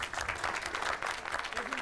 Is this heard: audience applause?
yes